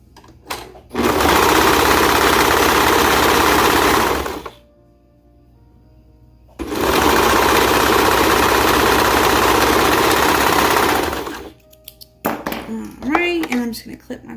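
A sewing machine runs loud and steady while stitching the side seams of a child's romper at a 1/4 inch seam allowance, stopping briefly and then running again, followed by brief handling noises at the end.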